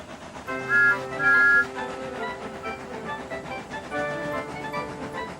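Several steam engine whistles blow in long, overlapping tonal blasts, with a louder burst early on and another sustained sounding later.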